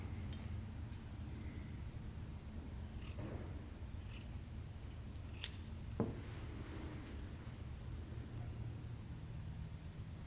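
Scissors snip through dry cornhusk for a handmade doll, a few sparse, crisp cuts spread over ten seconds with a small clack near the end, quiet and close against a faint background hiss.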